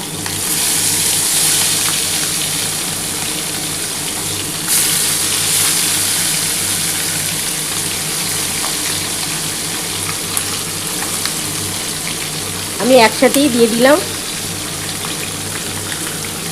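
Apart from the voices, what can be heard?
tangra fish frying in oil under a plate cover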